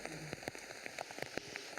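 Heavy rain drums steadily on a nearby surface at an orienteering relay event, with dense, irregular drops spattering close by and no talking.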